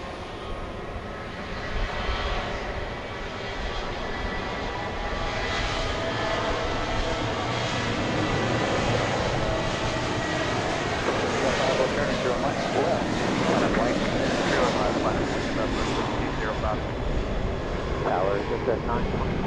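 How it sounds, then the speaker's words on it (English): A Southwest Boeing 737-700 bound for Nashville takes off at Dallas Love Field at night, a steady broad jet roar holding at a distance for the whole stretch with no talk over it. "737-700."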